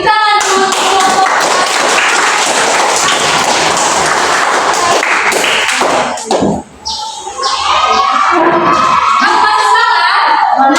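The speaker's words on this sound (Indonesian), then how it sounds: "tepuk tangan untuk kelompok" Primary school classroom clapping for a group of pupils after a presentation, a dense burst of claps that briefly thins out midway, then picks up again, with children's voices chattering through it.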